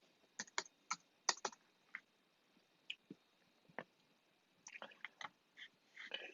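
A password is typed on a computer keyboard in quiet, scattered clicks, a few keystrokes at a time with pauses, then a quicker burst at the end, close and soft.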